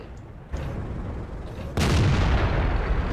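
A tank cannon fires in a video game as a heavy booming blast that jumps into a loud, sustained rumble, preceded by a lower steady roar of battle noise.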